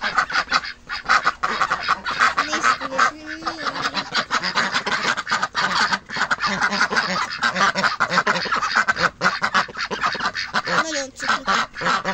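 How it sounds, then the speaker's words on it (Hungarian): Domestic ducks and geese fill a farmyard with loud, continuous honking and quacking, many birds calling at once and close by, while a person speaks briefly over the flock. "itt vannak a cucik kacsák"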